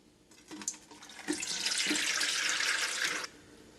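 Tap water pours into a small pot used for sterilizing glass jars, a steady close splash lasting a few seconds before it cuts off.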